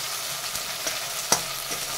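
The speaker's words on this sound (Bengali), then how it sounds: "পোস্ত বাটাটা দিয়ে দিলাম, দিয়ে একটু হালকা নাড়াচাড়া করে নিচ্ছি।" Fish being gently stirred with poppy seed paste and turmeric in a pan, with faint soft scrapes and a few light clicks over a low sizzle, quiet and close.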